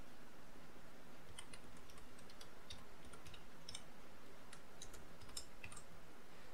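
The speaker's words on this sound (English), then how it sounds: "Now I will just write the image file name with the extension." Someone types a file name on a computer keyboard, producing faint, quick keystroke clicks in small bursts beneath a constant hiss.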